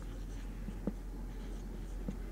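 A thick yellow marker pen writes a word on a surface, with soft, faint scratchy strokes and two small taps from the pen against a quiet background.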